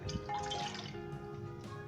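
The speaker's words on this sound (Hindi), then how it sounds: "4 कप पानी डालेंगे।" About four cups of water are poured into a cooking pot for chicken stock, making a soft, continuous splashing and trickling that runs steadily for a couple of seconds.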